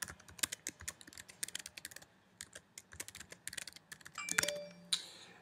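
Rapid typing on a computer keyboard while entering login credentials, a quick irregular run of close, crisp key taps with brief pauses and a heavier burst of keystrokes near the end.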